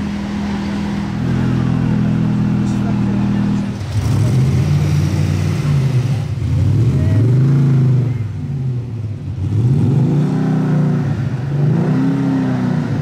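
A BMW M5 engine revs repeatedly, rising and falling in deep roaring surges, close and loud, in Monaco.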